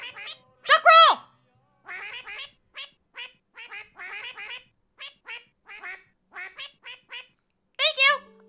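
A cartoonish duck quacking alert plays on a livestream, a rapid series of short nasal quacks spread over several seconds with longer squawks at the start and end.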